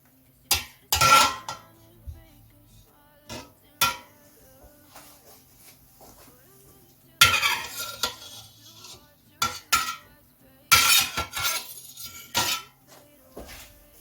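Knife cutting mozzarella curds in a pan during home cheesemaking: intermittent metallic scrapes and clinks against the pan, brief irregular strokes separated by quiet pauses, close and moderately loud.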